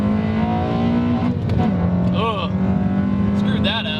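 A 2015 Honda Civic Si engine revs hard and steadily through the clip, a loud, continuous in-cabin drone rising in pitch toward VTEC, with brief chirpy squeaks and a voice heard faintly underneath.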